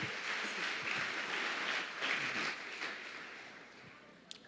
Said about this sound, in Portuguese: Aplauda o nome do Senhor se você acredita nessa palavra.